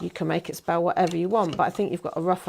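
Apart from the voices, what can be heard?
No everyday noise stands out behind the speech.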